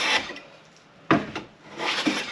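A hand plane slides along the wooden board of a charcuterie board, peeling thin shavings in a few close, rasping strokes, one sharp pass standing out mid-way.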